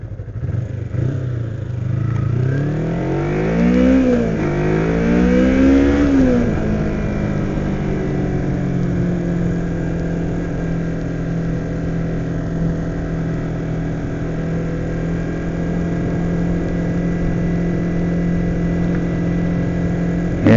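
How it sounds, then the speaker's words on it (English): A 2007 Kawasaki Ninja 250 motorcycle's small high-revving engine, loud and close, rising and falling through a few revs early on, then settling into a steady sustained drone with no talking. "these little high-revving engines, they work best."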